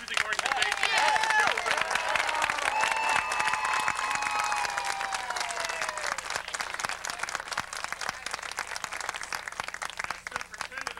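An audience at a 1986 awards ceremony gives sustained, dense applause for the leadership of the Thomas McKean High School Marching Band. The clapping from a large crowd stays steady and fairly loud throughout.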